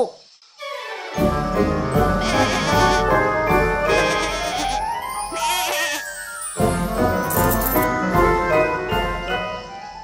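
Goat bleating amid tinkling jingles and layered music, loud and close, the bleats rising over a busy melodic backdrop with a short gap midway.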